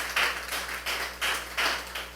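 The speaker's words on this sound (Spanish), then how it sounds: "dale un aplauso al Señor si lo desea hacer" A church congregation in Caracas claps for the Lord in rhythmic bursts, about five close waves of hand-clapping rising and falling with no voices on top.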